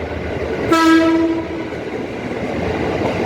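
A KAI commuter train sounds a loud, steady horn blast for about a second as it passes beneath a pedestrian bridge, with a rumble of rail noise carrying on afterward.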